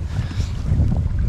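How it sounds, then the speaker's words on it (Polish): A boat's outboard motor runs briefly out on the water while fishing for zander, a steady low rumble with wind noise over the microphone and no talk. "Kierowniku, silnik na sekundę."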